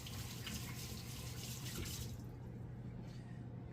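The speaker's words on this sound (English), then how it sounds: "Just rinse my hands real quick." Tap water runs steadily into a sink as hands are rinsed, a broad continuous splash at close range that cuts off partway through, leaving a quiet hum.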